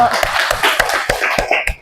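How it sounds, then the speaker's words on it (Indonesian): A class of participants in an Indonesian coding workshop claps hands together in quick, fairly even bursts of sharp claps, with voices and light laughter mixed in. "kalau gitu tepuk tangan untuk kita semua yuk"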